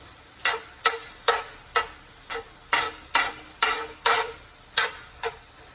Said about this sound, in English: Sorry about that scraping. I hate that sound